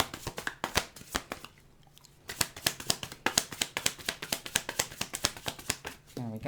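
Tarot cards are shuffled in quick, crisp riffles and slaps, a steady run of close clicks with a brief pause partway through, as a voice speaks underneath.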